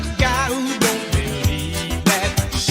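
A loud music sample plays continuously, with full, dense instrumentation and wavering melodic lines over steady rhythmic hits, no talking over it.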